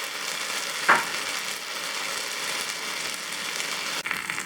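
Rava paniyaram batter cooks in the wells of a paniyaram pan, giving a steady soft sizzle and frying hiss throughout, with a brief louder crackle near the start and a small clack toward the end.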